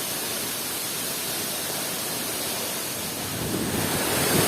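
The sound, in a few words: Kali Ngisor waterfall in Jepara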